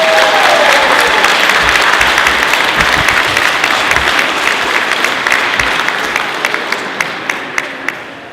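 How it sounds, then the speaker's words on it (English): Sustained applause from an audience at a pre-K graduation ceremony, dense steady clapping from a large crowd that gradually thins and fades toward the end. "Can we get another round of applause for our pre-K graduates?"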